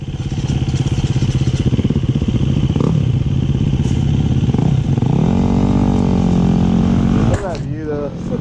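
A motorcycle rides a country trail with its engine droning loud and close, pulsing steadily, then revving up and dropping away near the end, with a voice speaking over it.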